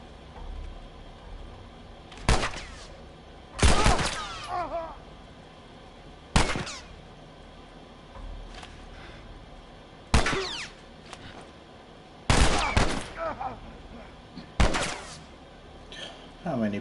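Sporadic gunfire in The Last of Us, a handful of sharp single shots and short bursts spaced a few seconds apart over a steady game background, with a voice talking at times between them.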